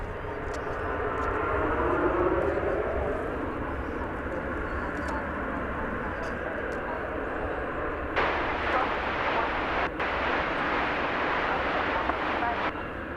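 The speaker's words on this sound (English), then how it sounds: "Looks like Lufthansa finally got the clearance to go over to Terminal D." A Lufthansa airliner taxis at DFW Airport toward Terminal D, a steady broad engine whine and rumble spread across the scene, with a louder gusty stretch of noise toward the end.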